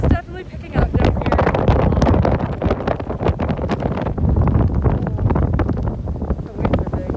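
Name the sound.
strong wind at sea before Hurricane Michael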